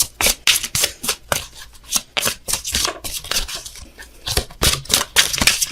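Power of Surrender oracle cards are shuffled by hand close up, a rapid run of flicking, riffling card slaps in uneven bursts with no talking.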